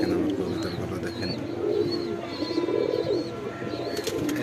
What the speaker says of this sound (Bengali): এটা একটা টেডি নর ডাকতেছে